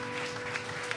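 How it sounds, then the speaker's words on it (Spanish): Congregation applause during a service at the Iglesia DIREFA church, a dense, steady wash of many hands clapping with no break across the short moment. "Dale un aplauso al Señor."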